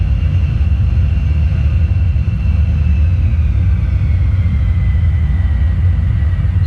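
Aircraft taxiing in the X-Plane flight simulator, a Royster Eclipse 550 small jet, a constant loud low engine rumble with a faint steady whine above it, no talking.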